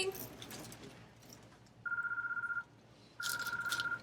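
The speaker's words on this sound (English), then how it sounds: "The phone is ringing." A telephone rings in a kitchen during a cake-baking session, two bursts of steady electronic trilling, the second louder and close, with a quiet gap between them and faint background talk.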